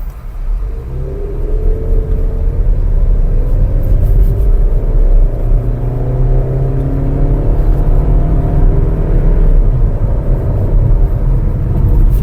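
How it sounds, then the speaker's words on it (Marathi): A Maruti Suzuki Victoris with a battery-electric hybrid setup and automatic torque-converter gearbox accelerates hard, its engine rising in pitch through long revving pulls over a loud constant cabin rumble, heard from inside without talk. "आपण थोडीशी ॲक्सिलरेशन टेस्ट करून पाहूयात"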